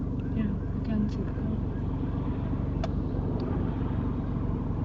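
A car approaches along the road during a driving lesson, heard as a steady low rumble of engine and road noise beneath ongoing conversation inside the learner's car.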